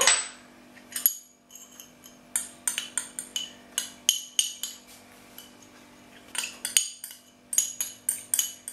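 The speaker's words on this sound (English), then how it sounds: "the chopped up garlic clove, but that goes in the mortar and pestle" Metal mortar and pestle pounding parsley and garlic, a close series of sharp metallic clinks and taps in uneven bursts, some rapid and rhythmic, with brief pauses and no talking.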